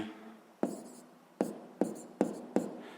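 A pen writing a math exercise on paper: five distinct scratchy strokes at a steady pace, close and fairly quiet, each with a short fading rasp.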